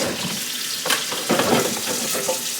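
Running tap water over whole okra pods being washed in a kitchen sink, a steady broadband splash with brief louder surges as the pods are moved under the stream, close by and without talk.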